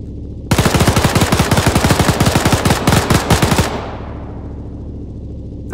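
Machine gun fire in the World War II game Arma 3 Iron Front: a loud, rapid burst of roughly three seconds of rhythmic shots, then the sound fades into quiet background.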